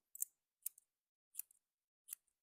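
Scissors snipping green felting wool, four crisp separate cuts spaced roughly half a second apart, close and quiet against silence.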